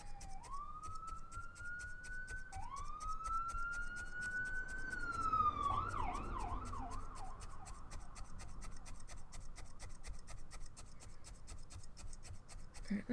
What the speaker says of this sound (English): Sounds like an ambulance is gonna go by.